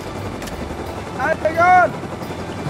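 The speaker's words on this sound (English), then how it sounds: "I want to try and jump into the helicopter." A helicopter in the survival video game Rust gives a steady low mechanical drone beneath players talking to each other.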